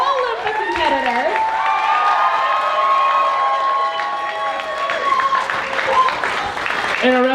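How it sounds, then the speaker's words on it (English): Applause and cheering from a convention audience for masquerade costume competitors at an anime convention awards ceremony, steady clapping with crowd noise throughout while an announcer's voice carries over it. "Another round of applause for all of the competitors."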